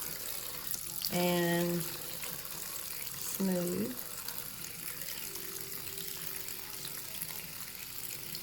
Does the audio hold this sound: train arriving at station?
no